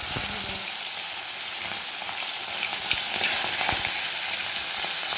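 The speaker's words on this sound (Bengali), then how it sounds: "এবারে ভেজে নেব কড়াইতে তেল গরম হয়ে গেছে" Pomfret fish frying in hot oil in a kadai, a close, continuous sizzle and spatter with a few sharper pops and crackles, no talking.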